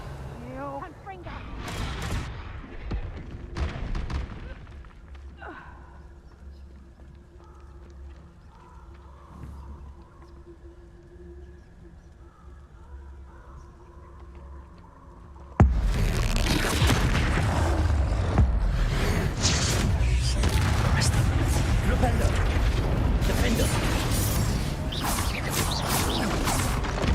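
The Confringo fire blast spell goes off in the Hogwarts Legacy video game. After a quieter stretch of mechanical creaks and thuds, a sudden loud, sustained roar of blasts and crackling erupts.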